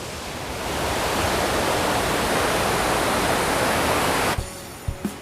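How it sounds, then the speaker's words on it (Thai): Sidit waterfall pours down a rock cliff and through crevices in a steady, loud, broadband roar that holds for most of the span, then drops away near the end, leaving a few faint knocks. "สำหรับน้ำตกสีดิดจะมีลักษณะของน้ำที่ไหลผ่านจากหน้าผา ลัดล้อผ่านตามซอกหินต่างๆ และตกลงมากลายเป็นม่านน้ำที่สวยงาม"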